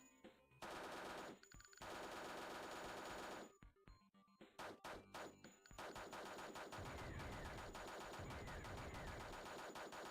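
Rapid automatic gunfire from enemies being shot in a flash video game, loud dense bursts with short gaps, then a sustained stretch of continuous firing.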